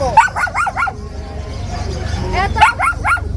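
A German Shorthaired Pointer at a busy pet market gives two quick bursts of four sharp, yappy barks, loud and close, with market chatter and voices murmuring underneath.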